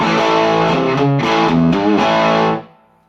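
Electric guitar played through a modded Fender Blues Junior amp with a little reverb: sustained, slightly distorted chords that shift a few times, then ring out and decay into a reverb tail.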